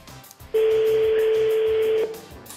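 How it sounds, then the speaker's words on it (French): A single telephone ringing tone sounds loud and steady for about a second and a half while a call is placed, with faint room noise before and after. "Deuxième sonnerie."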